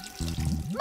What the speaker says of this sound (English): Step one, run the bath.